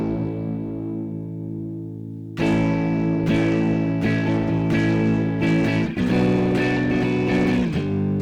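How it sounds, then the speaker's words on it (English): A sustained tone rings out, then heavily distorted, buzzing synth notes from a Scirocco synth module strike in a rhythmic series, harsh and loud with a gritty, saturated texture. "This might be a bit of a strong distortion to play with"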